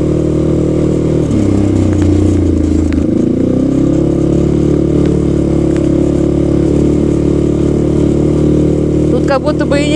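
A Sharmax 650 Force all-wheel-drive ATV runs over bumpy, muddy ground with a loud, continuous engine drone that dips and shifts pitch. Someone talks over it the whole time.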